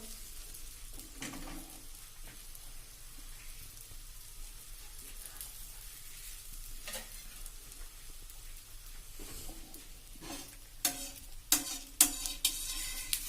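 A roti cooks on a hot griddle with a faint, quiet sizzle, joined near the end by several sharper clinks and taps close by.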